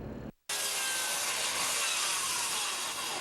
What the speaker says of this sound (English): The sound of electric saws and drills echo through Gulf Shores.